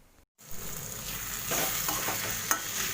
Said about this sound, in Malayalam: എന്നിട്ട് നന്നായിട്ട് ഇതൊന്ന് വഴറ്റിയെടുക്കാം